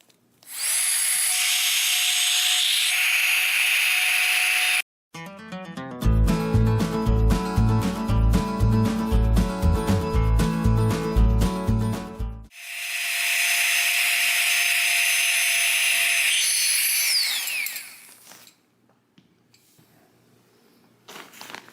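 A tiny FLEXTAILGEAR backpacking air pump inflates a pad after being pushed into its valve, giving a loud steady high-pitched motor whine that pauses briefly, then returns with a stronger rhythmic pulsing drone before running on steadily and stopping.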